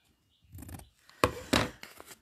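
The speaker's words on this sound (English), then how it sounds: "Trim that off, that one, and that one, right there. Wrong scissors" Scissors snip and trim fabric while a large tote bag is being sewn. Two sharp cuts stand out near the middle, with softer rustling and handling of the material before and after.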